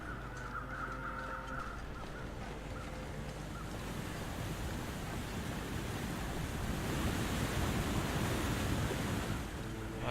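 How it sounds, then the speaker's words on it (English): Loud waterfall in the survival video game The Long Dark, a steady dense roar of rushing water that fills the whole clip and swells slightly louder toward the end, with no voices. "These waterfalls remind me of Hush River Valley. So loud, the waterfalls."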